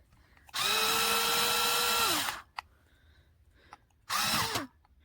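Black+Decker 4V Max cordless screwdriver (BDCSFL20C) driving a screw back in: two bursts of steady motor whine, the first about two seconds long and the second shorter, separated by a quiet gap with faint clicks.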